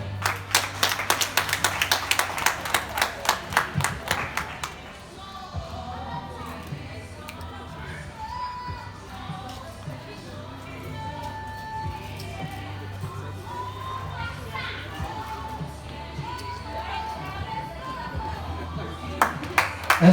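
A talent show audience breaks into sharp, dense clapping for a few seconds, which fades into murmuring crowd and children's voices before another short burst of applause comes at the end.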